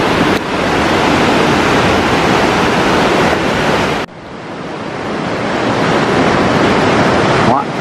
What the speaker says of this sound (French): Il y a la rivière qui fait son travail.